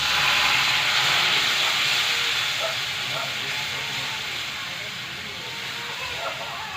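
Water hits a hot pan while cooking jackfruit stir-fry, a loud, steady sizzling hiss that slowly fades over several seconds.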